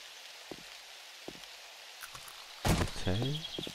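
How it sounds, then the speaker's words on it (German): Steady rain in 7 Days to Die, a continuous soft hiss with a few scattered thumps, broken near the end by a louder burst of game noise and a tonal chime. "Ja, und ich bin hier im Regen."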